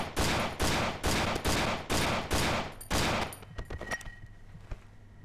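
Rapid gunfire in the horror game Cry of Fear: about seven loud, evenly spaced shots in quick succession, then quieter clicks and faint rattles as the firing stops.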